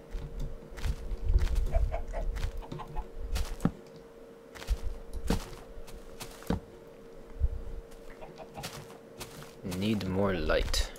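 Chickens in the video game Minecraft cluck in short, scattered bursts mixed with clicky game noises and a steady hum, with a rising tonal sweep near the end.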